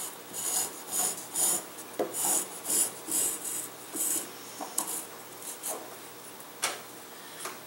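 A wooden wingtip on a hand-launched catapult glider is rubbed with sandpaper in short, rhythmic rasping strokes, about a dozen close, crisp swipes with brief pauses between them and no talking.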